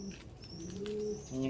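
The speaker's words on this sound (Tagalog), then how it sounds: "Yan yung ibon." Pigeon cooing: a soft, low coo, faint and brief, with light chirps at a short distance.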